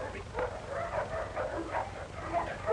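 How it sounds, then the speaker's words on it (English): A dog gives several short yips and barks in a steady run, fairly close, with faint whimpering hints between them and a low room hum beneath. "Sorry about the dog, Sergeant."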